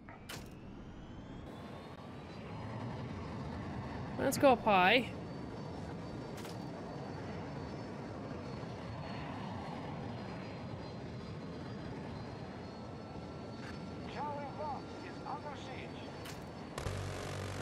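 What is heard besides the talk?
jet aircraft engine in video game Battlefield 2042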